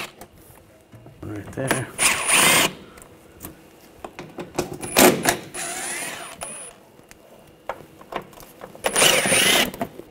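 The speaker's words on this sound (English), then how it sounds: "I'm just going to use a 8mm socket, take these screws out." A ratchet with an 8mm socket backs out inner fender well screws on a 2009-2013 BMW 328i, loud bursts of rapid clicking in three or four separate runs at close range, with brief speech in between.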